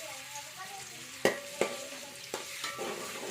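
Garlic sizzles steadily in a pan of mutton curry while a spoon scrapes and knocks against it in several sharp strokes.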